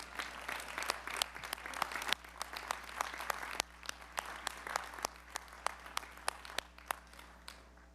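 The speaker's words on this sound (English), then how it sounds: "Graduates, let's give your family and friends a great big round of applause" Commencement audience at a University of Nebraska–Lincoln undergraduate graduation applauds steadily, a distant, hall-filling wash of many hands with scattered sharper claps standing out through the whole stretch.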